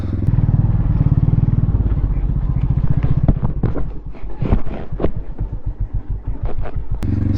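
A pit bike engine pulls a wheelie in second gear, its throbbing single-cylinder putter loud and close, swelling and then breaking into choppy, pulsing bursts as the throttle and clutch are worked.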